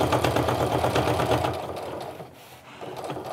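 Sewing machine stitching along a fabric seam allowance for a small wristlet, running steadily and fairly close, then easing off briefly before picking up again near the end.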